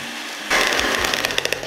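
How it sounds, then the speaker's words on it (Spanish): Electric hand mixer at maximum speed whipping a coffee and chocolate cream, starting suddenly after a quiet moment into a loud, buzzing whir with rattling beater clatter against the bowl. "Con nuestra batidora a máxima potencia vamos a comenzar a batir durante unos 5 minutos aproximadamente."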